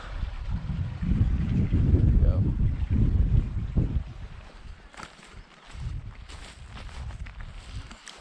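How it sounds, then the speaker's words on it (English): Strong wind buffets the microphone on the Mawddach estuary in Snowdonia, Wales, a loud low rumbling roar for the first few seconds that eases into lighter, gusting wind noise. "It's really windy on the estuary today."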